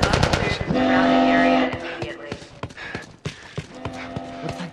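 Sharp bursts of automatic gunfire and single shots in The Last of Us, loud and close, with a sustained tonal blare and shouting voices between volleys.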